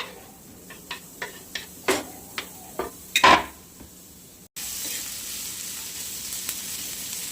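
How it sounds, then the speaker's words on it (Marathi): Onion frying in a pan for a spicy wet coconut chutney, a run of sharp clinks and taps from utensils against the pan early on, then a steady soft sizzle takes over after a brief gap. "आपण तळून घेऊया थोडासा."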